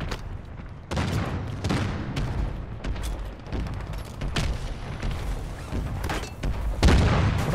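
Rapid bursts of gunfire and booming shots crack repeatedly in a Call of Duty match, loud and close, overlapping in dense volleys with a few heavier impacts.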